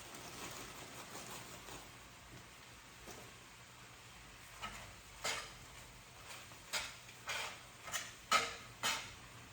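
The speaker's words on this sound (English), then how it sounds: "Let that spinach cook down." Spinach wilting down in a pan, a faint low sizzle and hiss under a series of light, irregular clinks and taps from the pan growing more frequent toward the end, with no voices.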